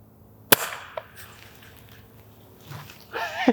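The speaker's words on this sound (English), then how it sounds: "let's do the shotgun burst downrange" A gas-powered Nerf MasterKey shotgun attachment fires with a sharp, loud crack, followed by a softer knock and handling clatter, then brief rustling near the end.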